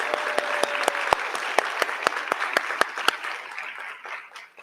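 Audience at a school board of trustees meeting claps for staff nominees, a brisk even round of applause with a few sharp individual claps standing out, fading away over the last second.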